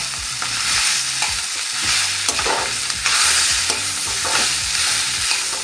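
Close, busy stirring of pakoda batter for mirch pakoda, with repeated scraping and slapping strokes in a quick uneven rhythm over a faint sizzle, no talking.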